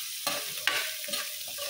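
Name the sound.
stirring sautéed cabbage with fresh shrimp paste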